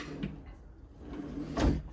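A single short wooden slide and bump near the end, a drawer being pulled open inside a Latitude Element 27 motorhome on an Iveco Daily, after a quiet stretch with a faint earlier knock.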